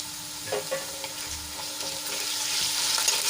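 Garlic-ginger paste sautés in hot oil with a steady soft sizzle that grows a little brighter over time, broken by a few faint scrapes of a spoon, close and fairly quiet.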